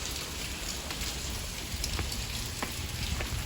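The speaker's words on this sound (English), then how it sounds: "It's pretty steadily raining." Steady rain falls outdoors near stairs in December, a dense, even hiss of drops pattering on surfaces with occasional louder splats, fairly close and with no voices.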